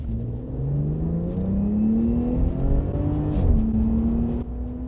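A 2025 Ram RHO pickup with the Hurricane engine launches hard from a near standstill, its engine note climbing steadily and loudly through the revs, with a brief dip at a gear change before it pulls on, close and with no talk.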